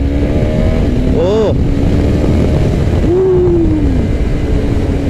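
A motorcycle fitted with an up-only quick shifter accelerates hard through its gears. A loud, steady engine drone rises in pitch, broken by brief, sharp shifts, and runs continuously near the rider.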